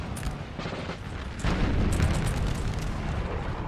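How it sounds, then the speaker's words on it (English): Howitzer artillery rumbling and booming in a Napoleon Total War multiplayer battle, a dense, continuous roar of distant explosions that swells louder partway through, with no voices. "Howitzers going off."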